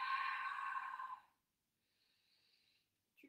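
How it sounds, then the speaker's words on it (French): An audible exhale breathed out through the back of the throat during a Pilates breathing exercise, a loud rushing breath lasting over a second, then a fainter, softer breath trailing off into quiet. "on fait un peu de bruit avec la respiration, avec le souffle. En expirant par l'arrière-gorge."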